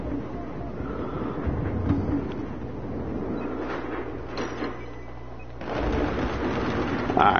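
M32 multi-grenade launcher and gunfire in the shooter game Battlefield 4: dense, continuous battle noise with repeated bursts and thumps layered throughout, a low steady drone in the middle, then a louder surge near the end.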